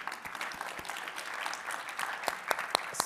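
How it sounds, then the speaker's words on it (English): Scattered applause from a modest audience at a talk, individual hand claps distinct and sharp, growing louder toward the end with a few close, crisp claps standing out. "we should all give ourselves a round of applause for the work that we do"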